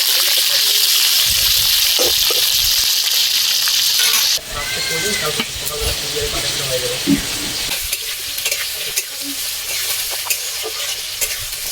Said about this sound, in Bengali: কেটে রাখা আলুগুলো কড়াইতে দিয়ে ভেজে নেব